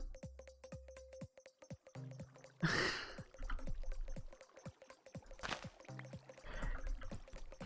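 Water flowing in modded Minecraft 1.12.2. A soft pouring, splashing rush surges in a few short bursts over a busy background of regular clicking and ticking game sounds.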